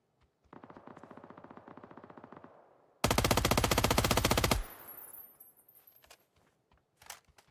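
Rapid automatic bursts from the GS9 gun in a video game: a fast steady rattle of shots, then a louder, denser burst, followed by scattered single cracks fading out.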